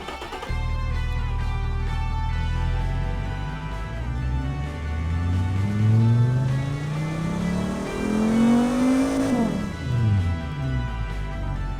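A 2.4 liter car engine in the BeamNG video game, a simulated 1980 city build, revs up and down with sweeping rising and falling pitch, loud and buzzy throughout.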